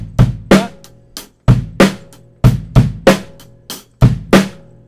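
Drum kit playing a drum and bass pattern, with punchy kick drums and sharp snare cracks in a repeating syncopated groove, close and loud with no talk.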